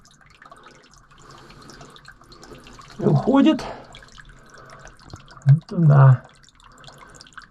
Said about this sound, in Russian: водичка бежит